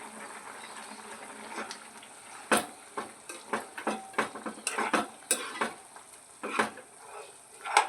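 A spoon stirs chicken curry with chicken masala in a pan, sharp scraping clinks in an irregular run over a soft bubbling sizzle, fairly close and with no one speaking.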